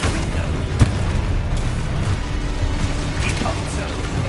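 A Confringo fire spell explodes in the video game Hogwarts Legacy with a sharp boom near the start, followed by a dense, continuous rumble of spell effects and combat noise throughout.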